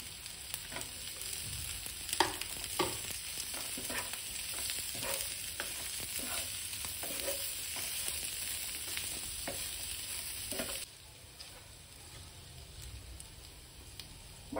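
Boiled potatoes sauté in a pan with quiet, continuous frying and repeated scraping stir strokes at an irregular rhythm, heard close and alone, with the sizzle dropping lower near the end.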